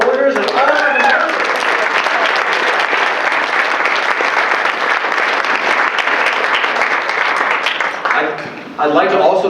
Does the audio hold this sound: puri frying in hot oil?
no